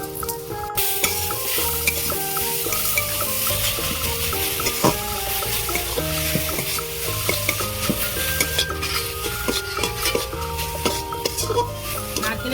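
Coconut and sugar filling stirred in a wok over a stove, with a busy, continuous scraping and clinking of a spatula against metal over a light sizzle, close and fairly loud throughout.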